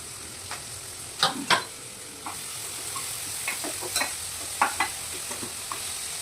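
Onions frying in a pan with a steady, close hiss of oil, punctuated by sharp clicks and taps from a stirring spoon.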